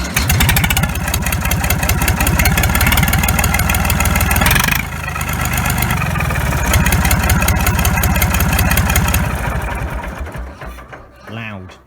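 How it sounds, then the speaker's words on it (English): A Massey Ferguson 35 tractor engine runs with a newly fitted exhaust, giving a loud, close, rapid mechanical chatter that holds steady, dips briefly midway, then winds down near the end. "Start the tractor, see how she sounds that exhaust on."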